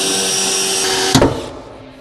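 A power drill bores a hole through sheet metal while a footrest is being fitted to a vehicle, giving a steady, close whine for about a second before it catches with a clunk and winds down.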